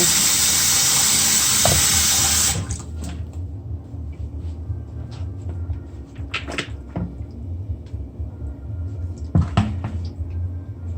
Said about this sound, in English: Let me pour this water out.